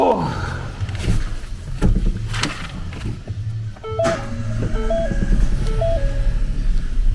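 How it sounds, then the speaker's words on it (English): A Ford Fiesta's engine cranks and catches after a wet belt replacement, settling into a steady idle with a low rumble, while a few short dashboard chimes or beeps sound over it, close up and loud. "We can get on the key now and give it a big start, I think."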